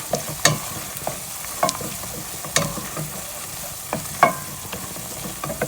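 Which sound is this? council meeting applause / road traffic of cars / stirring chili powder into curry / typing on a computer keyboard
stirring chili powder into curry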